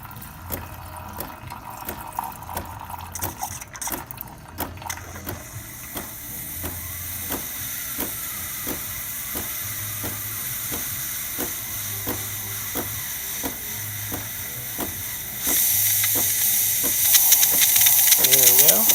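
A DeLonghi Magnifica espresso machine's steam wand purges and builds pressure, with rhythmic clicking pulses under a steady hiss that swells into a louder, brighter rush of steam near the end.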